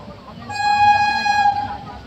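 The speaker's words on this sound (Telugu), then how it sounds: "మన ట్రైన్ అయితే పెండుర్తి రైల్వే స్టేషన్ నుండి అయితే డిపార్ట్ అయిపోతుందండి" Vishakapatnam–Kirandul passenger train pulling out of Pendurthi station, a single sustained horn blast of about one second rising over the low rumble of the moving train.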